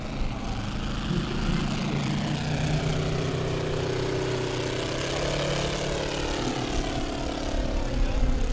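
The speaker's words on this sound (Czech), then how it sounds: "nádherný zvuk hvězdicového motoru u modelu velbloudí stíhačky" The radial engine of a model Sopwith Camel fighter drones steadily in flight at an airshow, a continuous buzzing propeller roar whose pitch shifts slightly as the plane passes.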